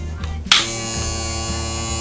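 A small electric pump wired to a switch panel kicks on with a click and then runs with a steady, even electric whine and buzz, close and constant, with no talk.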